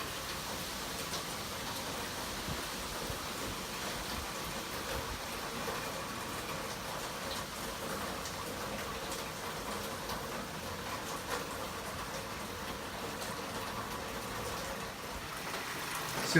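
Heavy rain falls during Hurricane Florence, a dense and unbroken hiss that holds steady throughout with no voices.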